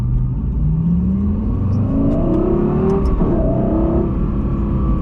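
A Lexus LFA supercar engine revs loudly and close as it blips through smooth single-clutch downshifts, its tone rising and falling in several swells with no voices over it.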